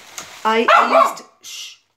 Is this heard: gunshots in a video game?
no